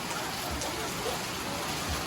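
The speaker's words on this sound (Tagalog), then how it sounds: "malakas ang ulan na lumalakas na naman ang ulan sa bubong ng bahay" Heavy rain pours onto a house roof during a typhoon, a dense, steady roar of drumming drops with no pauses and no voices.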